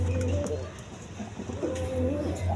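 Pigeons at a breeding-pair market stall coo in low, throaty rolling calls, close and repeated, with faint voices in the background.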